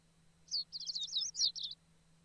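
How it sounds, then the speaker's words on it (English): Small birds chirping beyond a window in a quiet morning scene, a quick run of bright, high tweets lasting about a second, soft and slightly distant, with no talk over them. "I can hear birds chirping."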